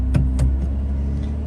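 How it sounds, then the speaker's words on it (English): A Lotus Emira sports car's engine starts up, with a couple of short bursts over a steady, loud low idle rumble close by and no talk. "So I guess let's fire it up and take it out."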